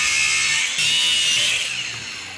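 Stainless steel boost pipe for a turbocharged Mercruiser 140 boat engine being cut with a power tool, a steady, loud, high-pitched grinding hiss that holds for a couple of seconds, then tapers off as the cut finishes.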